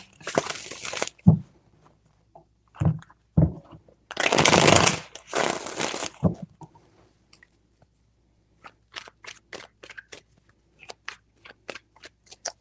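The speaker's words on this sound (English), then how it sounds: "Three shuffles." Tarot cards shuffled in three separate bursts of riffling, close and fairly loud, each followed by light taps and card handling, with scattered soft clicks and shuffles trailing off afterward.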